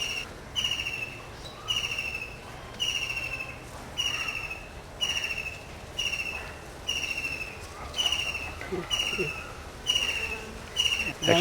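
Worker honey bees buzz at the brood chamber of a farm beehive, a steady close hum that swells and eases in regular pulses, with faint outdoor background.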